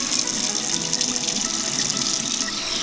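Milky, sudsy rinse water poured off rice in a kitchen, a steady, close, continuous splashing stream that holds evenly without pause, with no talking.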